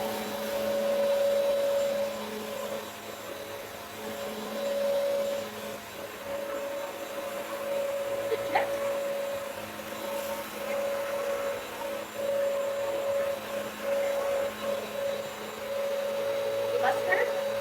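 A Bissell Pet Pro All-in-One mop vacuum runs on a hard floor picking up cereal, a steady motor drone with a whining tone cutting in and out, a few brief clicks and crunches, under intermittent talk.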